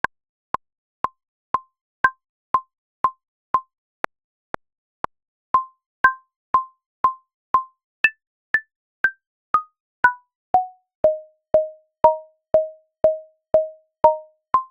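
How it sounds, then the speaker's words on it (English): Logic Pro metronome clicking steadily about twice per second, short tonal ticks with accented downbeats, shifting in pitch and growing longer and fuller as its sound settings are adjusted, alone without talk. "you're able to change the way the metronome sounds to suit your needs."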